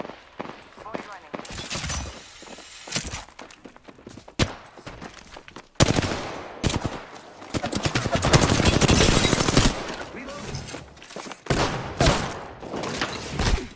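Rapid automatic gunfire in the video game Apex Legends bursts in loud volleys, with near and distant shots and hits coming repeatedly over the clip, and a player talking at times over the action.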